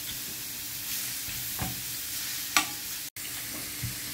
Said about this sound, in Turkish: Şöyle güzelce kızartıyoruz.